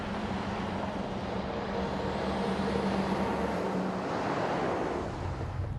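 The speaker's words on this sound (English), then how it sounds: "The 54-wheel lorry trundled northwards through the night" A 54-wheel lorry hauling an 80-ton diesel railway locomotive trundles along a road at night, a steady low rumbling roar with a faint tonal engine hum that fades partway through, no voices.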